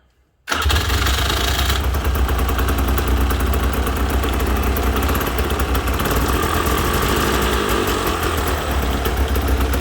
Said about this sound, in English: now I'm going to start it up